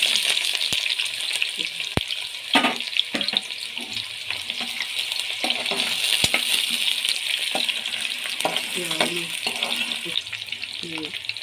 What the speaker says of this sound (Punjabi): ਪਿਆਜ਼ ਪਹਿਲਾਂ ਭੁੰਨਣਾ